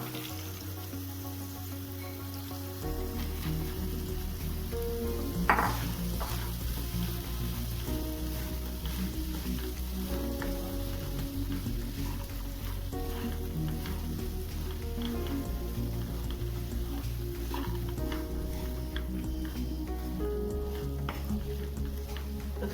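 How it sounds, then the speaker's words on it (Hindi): Sprouted moth beans sizzle and crackle steadily in hot masala in a pan on an Indian home stove, a continuous close frying hiss with a few sharper stirring clinks and no talking. "थोड़ी देर मोठ डालकर इसे भून लेंगे।"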